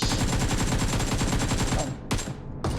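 Rapid automatic gunfire in PUBG Mobile, a dense, loud burst of evenly spaced shots lasting nearly two seconds, followed by two short separate bursts.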